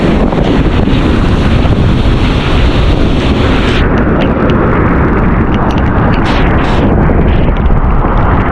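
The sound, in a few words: strong ocean waves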